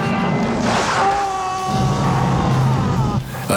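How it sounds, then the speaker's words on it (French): A man screams in a scene from the action film Cobra during a serial killer attack: a loud, sustained strained yell, close and raw, fading and then returning over a rough, noisy background. "Si, là, il crie un peu quand même, le gars."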